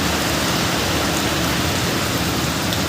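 Heavy rain falls on a cloudy morning near a mango tree, loud and unbroken, a thick hiss of water pouring down without pause and with no one speaking.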